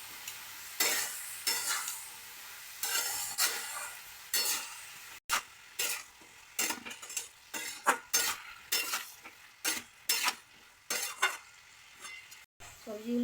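A spoon scrapes and stirs a poppy-seed vegetable dish in a pan. The scraping comes in repeated short strokes over a soft background sizzle, with occasional metallic clinks against the pan.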